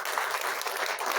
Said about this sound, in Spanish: ¿Cuántos pueden darle un aplauso al Señor por su gloria?